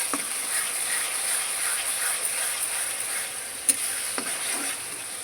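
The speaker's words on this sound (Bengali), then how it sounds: "এবার আমার আদা পেঁয়াজটা লাল হয়ে গেছে, ভেজে নিচ্ছি তেলে ভালো করে গেছে।" Ginger and onion frying in hot oil in a pan, a steady close sizzle and hiss with a couple of sharp crackles and stirring taps.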